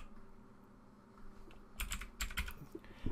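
Quiet room tone, then a few quick bursts of close computer keyboard keystrokes as a short command is typed, clicks clustered in the last second and a half.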